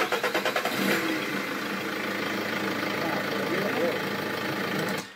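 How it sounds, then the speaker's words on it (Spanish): A car engine with a newly replaced pressure regulator valve cranks with a few rapid starter pulses, catches, then settles into a steady, loud, even idle that runs close to the microphone until the end. "vamos a arrancar el motor después de cambiarla"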